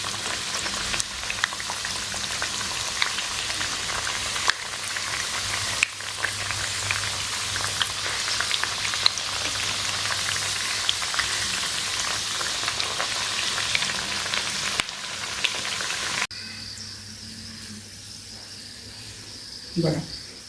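Alu vadi, colocasia leaf rolls, sizzling steadily in hot oil in a home kitchen, a dense continuous crackle and hiss that drops off abruptly near the end, leaving quieter background noise.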